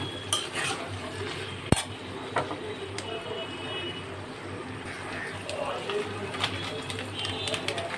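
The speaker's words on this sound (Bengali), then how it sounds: "লঙ্কার গুঁড়ো, এবার এগুলোকে ভালো করে কষিয়ে নেব।" Spices with chili powder are stir-fried in a pan, giving a low continuous sizzle with scraping and clinking of a utensil against the pan, one sharp knock standing out.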